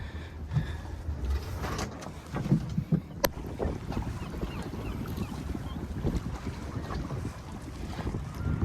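A small sailing dinghy running downwind, the helmsman holding the tiller: steady wind buffets the microphone with rushing gusts, and water splashes and gurgles along the hull beneath, loud and continuous, with no talking.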